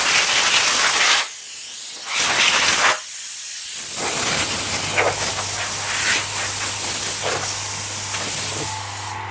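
A spray gun sprays lacquer onto a subwoofer box in loud close hissing bursts, with a short pause and then a long continuous spray.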